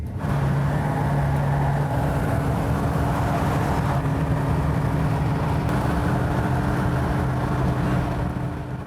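A 1968 Dodge Charger R/T drives on the road during a test drive, a steady loud engine drone whose pitch shifts a couple of times as it changes gear.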